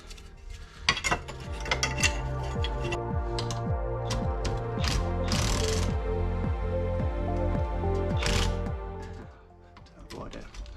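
Ratchet with a 14mm socket working a long bolt on a truck, with rapid close clicking in repeated runs and a few metallic knocks, while a voice talks softly in places.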